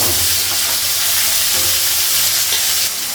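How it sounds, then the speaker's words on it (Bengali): Onions and potatoes fry in a pan over panch phoron and green chilli, a loud dense steady sizzle with faint stirring scrapes, close and uninterrupted. "পেঁয়াজটা আলুটা ভাজবো"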